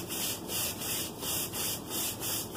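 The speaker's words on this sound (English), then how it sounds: "So we'll just start by scrubbing back and forth." A brush scrubbing tile grout back and forth, a steady rhythmic rasping at close range that swells and fades with each stroke, with no voices.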